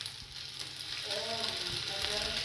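Pasta frying in a little oil with chili sauce in a pan, a steady close sizzle that builds slightly louder partway through, with light stirring.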